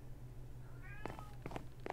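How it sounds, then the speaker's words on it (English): A cat meows once in the Minecraft video game, a short rising call near the middle, set among scattered clicks and soft game effects over a low steady hum. "And a cat."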